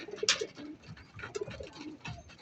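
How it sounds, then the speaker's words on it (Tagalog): Pigeons coo softly in a loft, repeating low throaty calls at a moderate distance, with faint background noise and no voices. "Pero ito yung ating kalapate."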